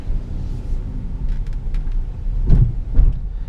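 A 2018 Mitsubishi Outlander Sport SEL rolls slowly over a speed bump in four-wheel drive auto, heard from inside the cabin as a low road rumble with two soft thumps close together.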